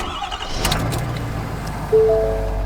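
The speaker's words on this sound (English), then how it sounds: "The truck is running perfectly fine." A truck's engine cranks and catches, settling into a steady idle hum that continues to the end after a brief clatter of handling noise.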